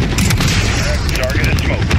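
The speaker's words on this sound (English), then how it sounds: "Missiles away. Missiles away." Missile strikes in Call of Duty: Modern Warfare land as a dense, continuous roar of explosions and rumbling blasts, loud and close throughout, with radio voices cutting in over the din.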